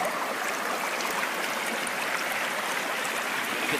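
Water rushing steadily through a gold prospecting sluice in Vermont, a constant close hiss and gurgle with no pauses and no voices.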